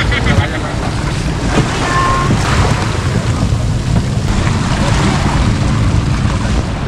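A motorboat heads to White Island off Camiguin, with loud, steady engine drone and heavy wind buffeting the microphone throughout and no break.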